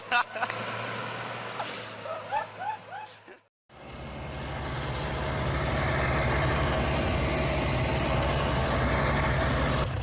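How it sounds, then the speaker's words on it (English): A Massey Ferguson MF 7180 tractor and a bulldozer work in deep mud. A few seconds of quieter outdoor sound with a voice break off suddenly, then a loud, steady heavy-engine roar fills the rest, near and constant. "This is a confrontation between the Massey Ferguson MF 7180 tractor and the Estres bulldozer."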